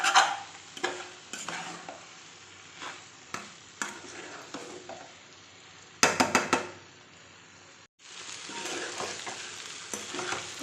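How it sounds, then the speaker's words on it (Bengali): Loitta (Bombay duck) fish jhuro frying in oil on a low gas flame while a spatula stirs it, a soft steady sizzle broken by scraping strokes and sharp clinks against the pan, with a brief pause midway. "তো এখন আমি গ্যাসটা কমিয়ে দেবো, একদম কমিয়ে এবার নাড়াচাড়া করব।"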